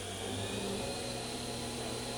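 Fadal vertical machining center with two-speed direct-drive spindle, running steadily at high RPM: a continuous close mechanical whine with a low motor drone and no speech.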